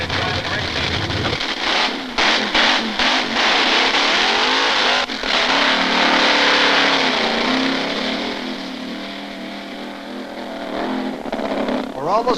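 A drag racing buggy's engine roars loudly and continuously during a time trial run at a drag strip, the pitch rising and holding in a long sustained blast.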